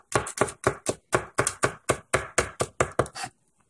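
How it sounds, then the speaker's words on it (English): A knife chops garlic on a cutting board, about a dozen crisp, evenly spaced taps in quick succession, close and clear, ending in a brief silence. "You just like it when I cut garlic"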